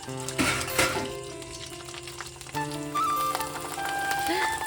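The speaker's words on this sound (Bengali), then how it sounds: "তেল ছিটছে তেল ছিটছে" Sago papad spits and crackles in hot oil, a busy sizzle up close, with a tonal hum and a few brief squeaky sounds over it.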